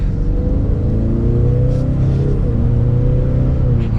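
A 2022 Ford Mustang EcoBoost with the 2.3-liter four-cylinder in sport mode makes a mild run up to speed. A steady, loud engine drone from inside the cabin climbs gently in pitch over several seconds, with no talk.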